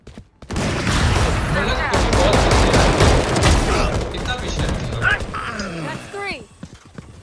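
Rapid, loud gunfire in Valorant, a dense stream of shots and impacts lasting several seconds before thinning into scattered clicks and a reload, with a voice talking over the shooting.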